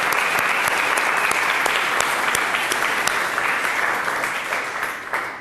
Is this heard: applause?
yes